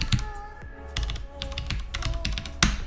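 Password typed on a computer keyboard during an Arch Linux install, a close run of quick clicky keystrokes in uneven bursts ending with a firmer key press, no talking.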